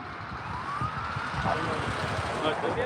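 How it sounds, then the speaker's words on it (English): A faint police siren wails in the distance under steady road rumble and background noise in East Denver. "he just had a siren on"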